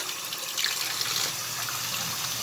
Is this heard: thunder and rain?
no